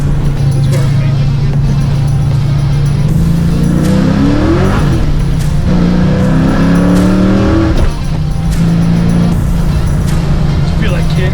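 A sports car's engine revs hard and climbs through the gears, loud and close, with a steady drone between pulls as it accelerates at partial throttle.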